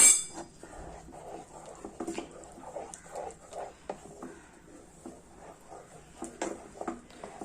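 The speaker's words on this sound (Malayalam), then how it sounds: "ഇനി നമുക്ക് കട്ട കെട്ടാതെ ഇളക്കണം." Mango halwa thickened with cornflour being stirred in a pan, soft irregular scrapes and occasional light clinks of the spoon against the pan, close and quiet with no speech.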